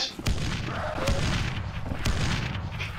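Grenades go off in the zombie game Dead Island Riptide: a few heavy, close booms at roughly one-second intervals over dense, continuous game noise.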